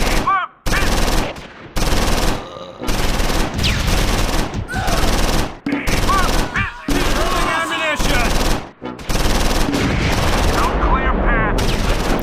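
Machine gun fire in the World War II video game Close Combat 4, set in the Battle of the Bulge, pours out in long, loud, rapid bursts broken by short gaps, with heavy gunfire close by.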